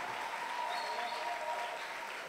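A church congregation applauds, a steady wash of many hands clapping with cheering voices mixed in, fairly quiet and sustained throughout.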